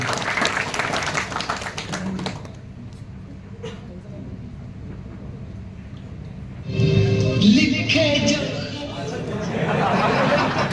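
A crowd applauds and cheers, noisy and sustained, swelling louder partway through with chatter mixed in.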